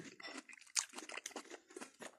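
Crisp crunching from bites into a firm, sliced Vinnytsia peach, several close, uneven bites and chews in quick succession with no talking.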